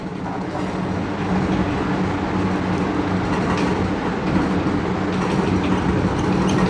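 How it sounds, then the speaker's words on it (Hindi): Steady broadband whirring hum of a fan running in a recording room, constant and fairly loud with low tonal bands, unbroken throughout with no talk. "ये वीडियो रिकॉर्ड हो रही है तो ऑब्वियसली आपको फ़ैन की आवाज़ सुन रही होगी"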